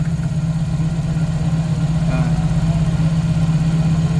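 A Toyota 4A-FE engine, after a head gasket repair and top overhaul, idles smoothly with a steady, even low drone, loud and close, with no talking.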